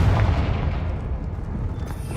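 Confringo blasting spell from Hogwarts Legacy, a sustained heavy booming explosion with a dense low rumble that holds steady for about two seconds.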